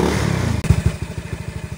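A Yamaha Mio i 125 scooter engine runs close by, a steady idle giving way to a quick, pulsing rise as the throttle is twisted, with a rapid low chugging rhythm.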